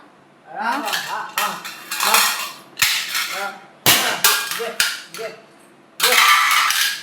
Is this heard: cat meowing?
no